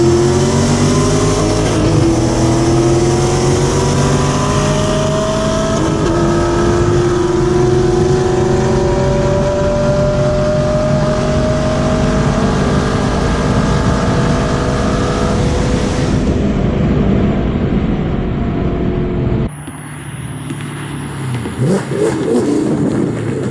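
A 6th-generation Camaro fitted with long tube headers and running E85 roars loudly at full throttle during a race, its steady engine drone rising in pitch for about sixteen seconds before cutting off to fainter noise.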